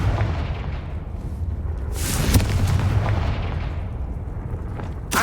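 Confringo fire spell blasting in Hogwarts Legacy, a booming explosive burst rising over a low rumbling game ambience, with a second sharp crack near the end.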